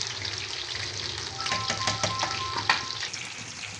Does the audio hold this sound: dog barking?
no